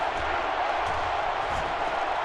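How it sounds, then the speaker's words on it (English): A football stadium crowd roars continuously and loudly during a college football game between Oklahoma State and Oregon, forming a dense, steady wall of noise throughout. "This crowd is almost shaking the stadium"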